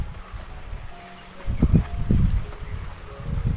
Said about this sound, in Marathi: किती वारा आहे बघा